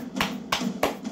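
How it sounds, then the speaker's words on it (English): Four sharp hand claps in an even, fairly quick rhythm, close and clear over a faint background hum. "I gotta clap for that"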